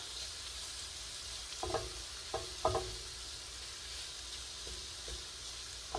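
Shrimp frying in a pan: a quiet, steady sizzle with a few soft clinks and scrapes of stirring scattered through it, and no voices.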